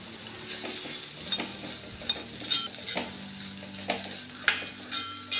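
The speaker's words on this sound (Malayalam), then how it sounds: "നന്നായിട്ടൊന്ന് ഇളക്കി കൊടുക്കാം" Lentils are stirred in a pan with curry leaves and salt for a Kerala pothi choru lunch, giving a soft sizzle under irregular scraping strokes of the spoon, close up with no talking.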